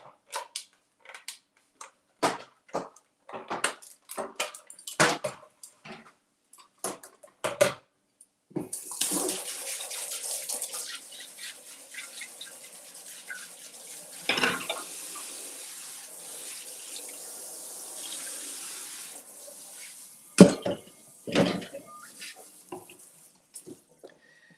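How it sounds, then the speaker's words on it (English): Tap water runs steadily into a sink while a pot is rinsed under it, a continuous close splash lasting several seconds between scattered clinks and knocks of the pot. "All right, so just rinse it off."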